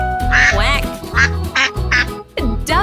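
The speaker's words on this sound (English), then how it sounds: "Duck. How do ducks say hello?" Loud, close duck quacks come in a rapid series of about six nasal calls with brief pauses between them.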